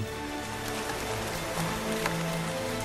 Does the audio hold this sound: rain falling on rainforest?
yes